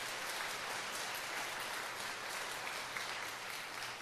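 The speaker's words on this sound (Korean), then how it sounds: "진짜 박수 박수" Church congregation applauding during a Korean pastor's sermon on the Holy Spirit: steady, dense clapping from a crowd, fairly quiet and distant, continuous for the whole stretch with no talk over it.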